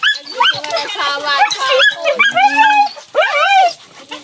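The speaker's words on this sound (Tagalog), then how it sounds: "Dito na salubong na naman po yung mga aso." Excited dogs yelp and whine up close, greeting someone with a string of loud, rising and falling yips and whimpers that overlap with barely a pause.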